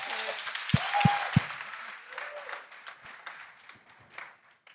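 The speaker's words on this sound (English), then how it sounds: "a great big loud round of applause as I hand over to Annette" Audience at a conference breaks into applause, a few sharp claps up front swelling into a broad, sustained round that gradually thins out toward the end.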